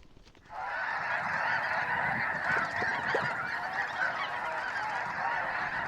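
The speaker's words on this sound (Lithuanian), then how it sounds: "Dangus netirštas nuo galybės paukščių, iš įvairiausių kampelių grįžtančių į savo vasaros namus." A flock of geese returning to the Arctic honks continuously overhead, a dense, overlapping chorus of calls that starts abruptly and holds steady, fairly close and loud, with no voices.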